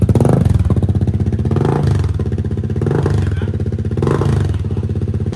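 A Kymco Xciting VS 400 scooter with an Akrapovic carbon exhaust and no silencer rumbles loudly up close, with a throbbing idle and a few blips of revving.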